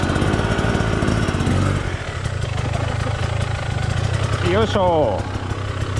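An engine is started and settles into a loud, close, rattling idle that runs throughout, with a brief dip in pitch midway; people talk briefly over it.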